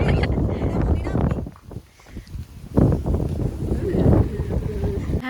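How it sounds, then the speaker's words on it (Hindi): Strong wind blowing outdoors during a Diwali gathering with friends, a loud continuous rushing roar buffeting the microphone, easing briefly midway before gusting back hard, with voices faintly under it. "इतनी तेज हवा थी"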